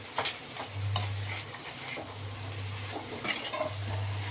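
Pieces of chicken being stirred as they roast in their own oil in a pan, with scraping strokes and a low crackle over a steady low hum, no voices.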